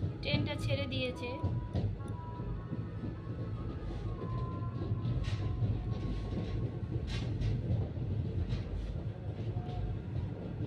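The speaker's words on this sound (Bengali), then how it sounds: "ট্রেনটা ছেড়ে দিয়েছে।" Inside a moving passenger train carriage bound for Kolkata, a steady low rumble and rattle runs throughout, with faint clanks and squeaks over it and some indistinct voices in the background.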